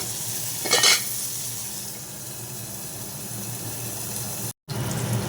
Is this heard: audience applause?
no